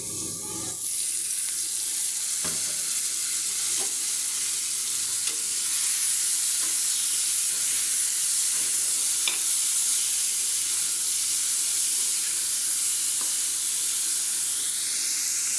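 Washed dried fish fries in a pan with cumin and turmeric, a steady, faint sizzling hiss that continues throughout, broken by a few soft clicks and taps of stirring.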